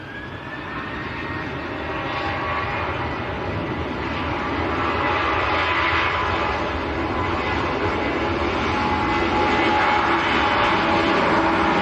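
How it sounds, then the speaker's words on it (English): Ryanair jet airliner taking off at Manchester Airport, a broad steady engine roar that swells gradually in loudness across the clip, heard from a distance with no talking. "Ryanair lining up full length. There's a second Ryanair coming out as well."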